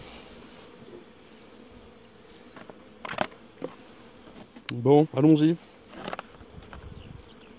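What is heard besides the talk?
honey bees buzzing around beehives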